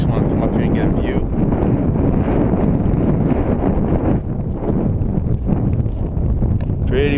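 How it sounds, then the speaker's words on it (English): Strong wind buffets the microphone on an exposed mountaintop along the Long Trail in Vermont in May, a loud, continuous low roar with gusty swells throughout and a voice briefly heard beneath it. "Pretty windy up here."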